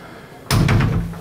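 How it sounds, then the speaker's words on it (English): A motorhome shower door swings shut with a single solid slam and thud, close and loud, followed by a short rattling decay after near-silence. "Here we have a shower, and if I close the door,"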